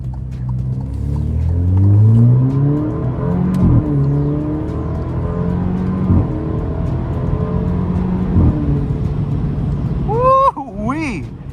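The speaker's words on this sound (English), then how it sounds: "Oh, listen to those downshifts." An Alfa Romeo Giulia's engine revs hard on a late-night drive, and several crisp throttle-blipped downshifts punctuate the loud, continuous engine drone, with a person talking over it.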